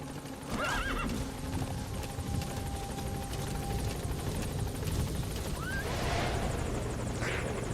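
A horse whinnies twice in Metal Gear Solid 5, brief shrill calls rising over a steady heavy rumble of helicopter rotor or engine noise that fills the whole scene.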